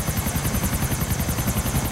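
A helicopter in the video game GTA thuds steadily with fast, even rotor chop and a whining turbine, loud and close with no voices.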